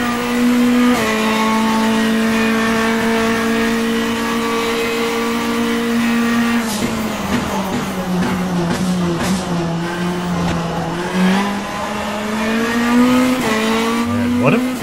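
A Renault R.S. 01 race car engine in rFactor 2 holds a high steady drone, then shifts and revs up and down through corners at the Montreal circuit, with speech likely present beneath the engine.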